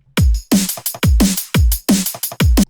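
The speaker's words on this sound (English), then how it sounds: "Sounds a little bit more like a snare now." A punchy, low-pitched snare sample, pitched down in FL Studio for a drum and bass beat, repeats six times in a steady rhythm, each strike sharp with a deep thudding body, loud and close with no voices.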